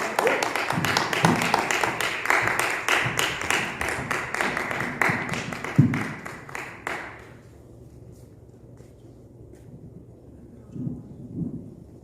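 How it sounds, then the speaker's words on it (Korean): Audience clapping steadily in a hall as a young speaker comes up to talk about the truth of the Jeju 4.3 incident, a dense run of applause that fades out, leaving quiet room tone with a couple of soft knocks. "나오실 때 우리 큰 박수로 맞이해 주시겠습니다."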